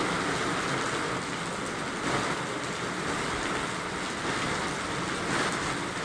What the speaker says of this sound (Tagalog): malakas na pagbuhos ng ulan.